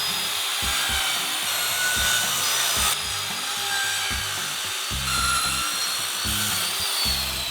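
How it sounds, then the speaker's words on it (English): A circular saw cuts a wooden desk top to length, with a steady loud whining and rasping blade noise over rhythmic low thumps, close and continuous with no talking. "Then I'll cut the other end to length."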